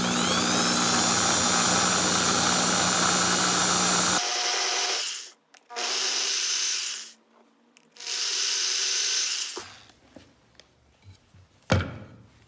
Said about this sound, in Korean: 핸드 드릴을 살짝 켜서 구멍을 넓힐 겁니다